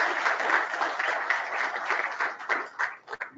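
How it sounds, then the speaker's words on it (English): A room of people at an annual member network meeting and iftar dinner clap for newly elected members, brisk applause close by that breaks into scattered claps and dies out. "you have to give a big round of applause to all these new MNP members"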